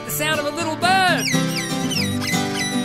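A saxophone imitates a little bird in a children's song, with quick squeaky chirping notes and swooping trills played close and clear.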